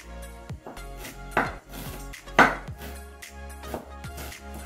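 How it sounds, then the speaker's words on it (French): A knife chops fresh ginger on a board in a series of sharp, uneven knocks, several louder strikes among lighter taps, close up in a quiet kitchen with no talking. "nous allons procéder à la découpe de notre gingembre et de nos oignons verts"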